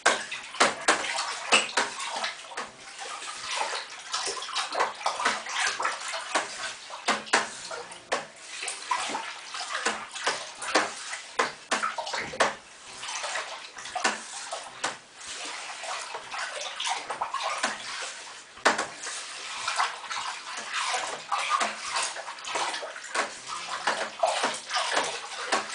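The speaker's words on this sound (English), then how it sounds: "I'm just going to give that a quick mix" Home brew cherry chardonnay wine being stirred in a fermenter, a steady sloshing, swirling liquid churn that runs continuously and close by, with no talking over it.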